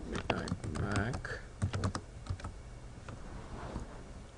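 Keys clatter in quick bursts while a voice speaks over them, entering text into a router command interface for a network setup.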